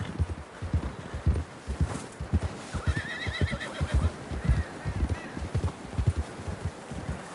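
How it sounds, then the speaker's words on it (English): A horse in Red Dead Redemption 2 clip-clops along a trail with rhythmic, moderately close hoofbeats, and a clear whinny rises in the middle of the clip as the steps continue. "John was riding that horse when we left Blackwater"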